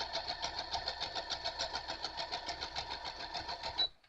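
A sewing machine runs a zigzag stitch appliquéing pieces onto a Card Trick quilt, a quick even rhythmic whir at close range, faint and steady for about four seconds before stopping abruptly.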